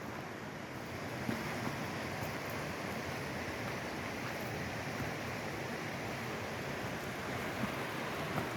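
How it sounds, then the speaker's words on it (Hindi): Steady broadband rush of natural water flowing in the Smoky Mountains, a continuous even wash with no talk over it. "आप कुदरती पानी की आवाज़ को भी सुने।"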